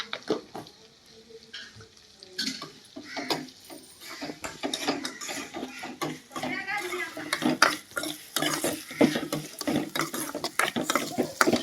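Onions with curry leaves and a pinch of salt frying and being stirred in a pan, the spoon scraping and clattering irregularly over a soft sizzle, with brief voice sounds here and there.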